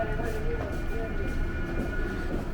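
A Santiago metro train rumbles along with a steady low roar and hum, a tonal whine running through it and faint indistinct voices nearby.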